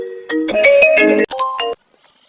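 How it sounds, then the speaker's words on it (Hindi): A phone ringtone plays a short, loud melodic run of electronic notes close by, then cuts off abruptly. "अरे उठाओ जी, किसका फोन है?"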